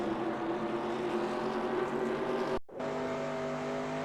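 A NASCAR stock car from the NASCAR Racing 2002 video game runs flat out at Phoenix International along the wall at about 150 mph. The engine drones loud and steady, cuts out for an instant, then resumes at a constant pitch.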